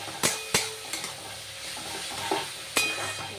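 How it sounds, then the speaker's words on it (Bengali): Onion frying with ginger paste and garlic for a Bengali fish dish, a steady close sizzle punctuated by several sharp spatula strikes against the pan, no voices. "পেঁয়াজটা হালকা ভাজা ভাজা হয়ে গেছে। এর মধ্যে আদা পেস্ট, রসুন, কুড়িয়ে নেওয়া রসুন দিয়ে দিলাম।"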